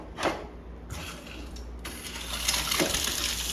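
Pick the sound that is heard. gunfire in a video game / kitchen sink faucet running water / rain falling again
kitchen sink faucet running water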